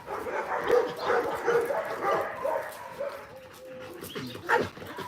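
Dogs whimpering and yipping with a few barks, close by, in restless bursts throughout.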